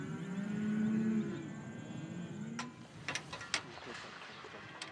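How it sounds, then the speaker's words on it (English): A Jersey dairy cow in a herd near Dalhart, Texas gives a clear moo up close, followed by clanking gate and metal barn noises. "checking on a herd of Jersey dairy cattle near Dalhart, Texas"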